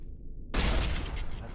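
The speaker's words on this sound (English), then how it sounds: "that's a pretty good explosion" An explosion in Mass Effect 1 Legendary Edition: a sudden heavy boom after near silence, followed by a sustained, loud rumbling roar that lingers to the end.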